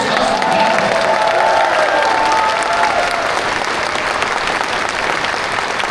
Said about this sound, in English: if I just get the biggest round of applause for them